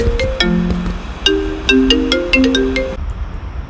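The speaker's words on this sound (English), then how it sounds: "so I had a phone call" A melodic phone ringtone for an incoming call plays loudly and alone, a run of bright repeated tones that stops abruptly near the end.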